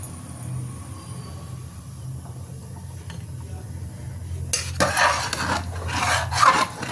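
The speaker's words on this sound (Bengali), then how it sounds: "এবার কন্টিনিউ নাড়তে হবে" A pot of khichuri being stirred: a quiet low simmer at first, then a run of scraping, clattering strokes from the spoon near the end.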